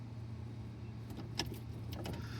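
A Triumph Spitfire with a no-start fault turns over on its starter, giving a steady low mechanical drone with a few brief clicks and rattles on top.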